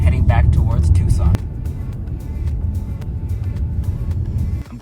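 A car driving along Gates Pass Road near Tucson, a steady low road rumble and engine drone heard from inside, with a burst of louder noise at the start before settling into an even hum.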